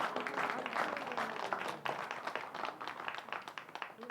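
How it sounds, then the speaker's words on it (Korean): Clapping from a church congregation during a Sunday worship service, a scattered crowd of hands making a busy, uneven patter that grows more distinctly rhythmic toward the end, moderately near and fairly quiet. "박수."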